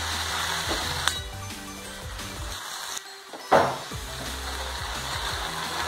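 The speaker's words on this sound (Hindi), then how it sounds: "अब इसे एक बार मिक्स और कर लेंगे" Bhindi sabzi, okra cooking in a pan over a low gas flame, being stirred, with a soft sizzle and a few light scraping and knocking sounds from the spoon nearby.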